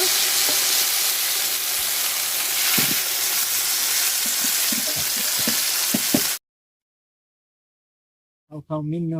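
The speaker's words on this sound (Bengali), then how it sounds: "আরো দুই পিস আছে মাছ সেই দিয়ে ভাজা নিব" Fish pieces frying in oil, a loud continuous close sizzle with scattered pops and utensil knocks, then it cuts abruptly to silence before a brief voice starts at the end.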